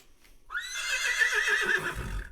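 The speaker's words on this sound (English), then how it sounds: "a whinny is not a whinny if it doesn't come from a horse's mouth." Horse whinny in the Return to Monkey Island video game, a single clear, fairly close neigh with a rising start and wavering tone, ending with a low thump.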